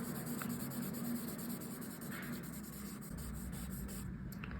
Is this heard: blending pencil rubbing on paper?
yes